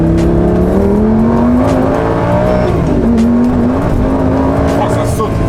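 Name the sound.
Lamborghini Gallardo V10 accelerating with wheelspin on a country road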